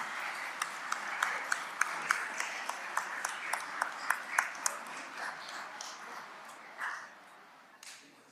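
Audience clapping at a school board trustees meeting in Marysville, a fairly quiet scattered round of applause with a few sharp individual claps standing out, trailing off after several seconds with a couple of late claps.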